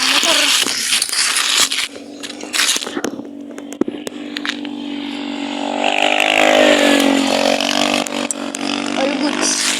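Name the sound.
motorcycle engine while riding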